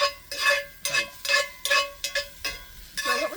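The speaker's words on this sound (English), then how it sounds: "I should probably stir this too" Oyster mushrooms being stirred while dry-sautéing in a pan, a series of about eight close, distinct scraping strokes in steady rhythm, with a faint sizzle underneath and no voices.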